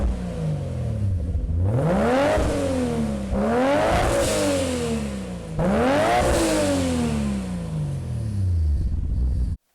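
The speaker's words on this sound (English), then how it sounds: "And now, the HKS high-power exhaust." Nissan Skyline GT-R fitted with an HKS high-power exhaust revving hard three times, each rev rising sharply then falling back, loud and close with no talking.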